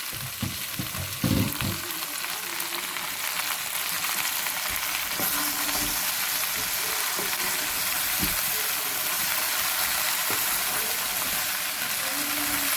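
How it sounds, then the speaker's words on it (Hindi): Sliced okra (bhindi) frying steadily in a pan for a dry bhindi aloo dish, a continuous close sizzle with occasional stirring scrapes and knocks. "इसको अब हम इसमें भून लेंगे।"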